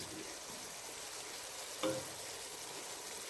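Onions sautéing in biryani masala for an Ambur biryani give a soft, steady sizzle and hiss, with one brief clink near the middle and no talking.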